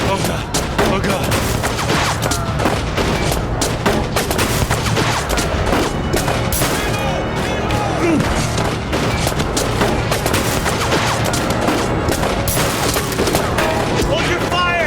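Dense, sustained gunfire in 1979 Revolution: Black Friday, with rapid overlapping shots and crackling bursts throughout, loud and chaotic, with shouting voices mixed in.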